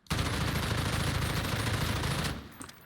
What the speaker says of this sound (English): So, M4, we're going to go ahead and do just a Hipfire.